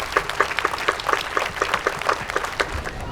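An audience at an outdoor municipal band concert applauds, with individual claps distinct within a lively, uneven patter of hands. There is no talking over it.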